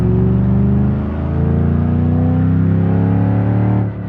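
A highly modified 6.5-liter engine in a BeamNG.drive car revs loudly and steadily, a sustained rising drone with one brief dip near the start and a drop at the end, heard alone without voices.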